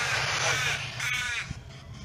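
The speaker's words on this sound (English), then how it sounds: "I think the crows are making more noise than what you are." Crows caw in a short outdoor burst of harsh, overlapping calls, fairly loud and close, fading toward the end.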